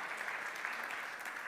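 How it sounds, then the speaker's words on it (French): Brief, faint audience applause for award winners at a marketing awards festival, a soft, steady patter of many hands clapping at a distance. "On peut les applaudir une nouvelle fois."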